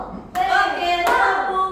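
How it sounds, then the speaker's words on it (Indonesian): A class of students claps for a group that presented on rice-field ecosystems, in two sharp bursts of clapping mixed with children's voices calling out. "Berikut tepuk tangan untuk kelompok 3"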